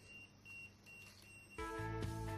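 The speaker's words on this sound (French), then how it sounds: "quand il trouve un poux, il se met à biper." An electronic anti-lice comb beeps on detecting a louse: short faint tones at first, then a louder, sustained electronic beep near the end, with no speech.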